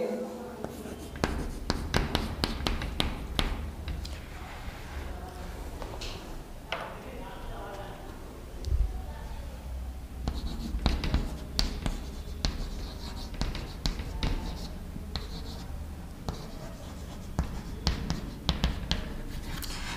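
Marker or chalk writing on a board during a physics lesson on units and measurement, heard as a steady run of scratchy strokes and taps across the whole stretch, with faint room noise beneath.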